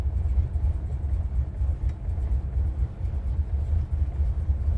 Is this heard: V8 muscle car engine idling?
yes